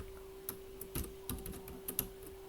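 Quiet computer keyboard typing while writing JavaScript code, scattered key taps at an uneven pace over a steady low hum, with no talking.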